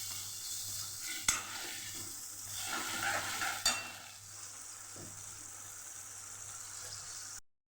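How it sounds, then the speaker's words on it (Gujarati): Tomatoes are sautéed in hot oil for a Gujarati fasting-style banana curry, a steady close sizzle with a couple of sharp spoon-against-pan stirring clacks, then the frying hiss continues alone before cutting off. "તો ટમેટાં ઉમેરી દઈશું ટમેટાને આપણે સરસ સાતડી લઈશું"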